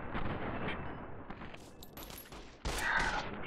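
Gunfire in the Fallout New Vegas video game: a dense, rattling volley of shots at moderate level, thinning briefly before a sharp, loud new burst near the end, with no talking.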